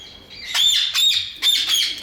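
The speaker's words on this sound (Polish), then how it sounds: "Nasze papugi, Rozella" Rosella parrots give three loud, harsh squawks close by, each a shrill rising-and-falling call with short gaps between.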